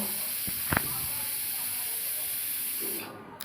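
A pressure cooker cooking layer chicken on a stove lets out a steady, loud hiss of escaping steam that runs for about three seconds, with a couple of brief knocks near the start before it cuts off.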